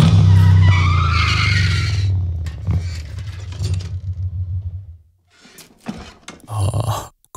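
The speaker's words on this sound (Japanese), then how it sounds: "エンジンを切る音も。" Motorbike engine revving and skidding in the video game Transistor, a loud droning rev with squealing tone that cuts out after about five seconds, followed by sparse clanks and short bursts of mechanical noise.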